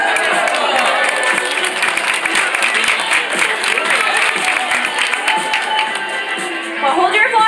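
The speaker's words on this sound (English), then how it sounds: "Well, hold your applause, ladies and gentlemen." Lively audience applause and cheering at a California sea lion show in a marine park, a dense crowd of clapping hands continuing steadily throughout.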